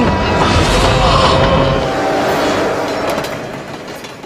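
Train rumbling along rails in an Indian action film scene, a loud low roar with heavy rolling noise that gradually eases, as if the train is slowing to a stop.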